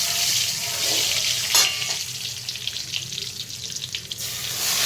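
Nigella seeds and ajwain crackle in hot mustard oil, a steady close sizzle running the whole time with a brief sharper burst early on and small pops scattered over it.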